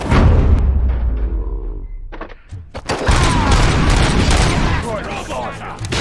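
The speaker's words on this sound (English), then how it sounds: "I'm hearing gunshots?" Booming gunfire and explosive bursts in the video game RoboCop: Rogue City, loud and chaotic, with voices underneath and a brief quieter lull before the shooting resumes.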